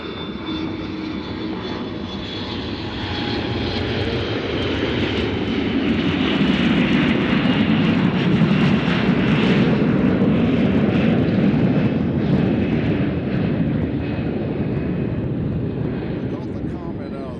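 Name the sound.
Embraer jet airliner at Nashville airport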